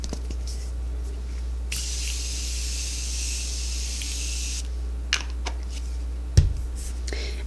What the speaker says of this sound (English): Now we'll spray it and blend it